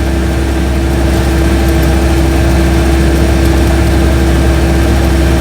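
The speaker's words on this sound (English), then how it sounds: "What a brilliant little engine. Steyr-Puck air-cooled flat twin, 493cc." A Steyr-Puch air-cooled 493cc flat-twin engine in an Invacar runs steadily, producing a loud, continuous droning hum with no pauses and no talking.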